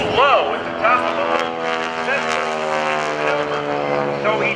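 A propeller aerobatic airplane performing a loop at a naval air station airshow, its engine droning with a steady rising and falling harmonic tone, heard from a distance under a commentator's voice.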